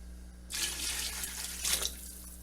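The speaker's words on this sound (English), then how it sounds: "2 quarts of turkey stock." Turkey stock poured into a soup pot for a turkey white bean chili, a steady liquid splash starting after a brief quiet moment and continuing close by, with no voices.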